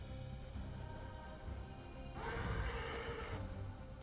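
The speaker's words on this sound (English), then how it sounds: "Of course, just as I found the horse." A horse neighs in the video game Darksiders Genesis, a loud whinny rising out of droning game music and ambience midway through and holding for a second or two before fading back.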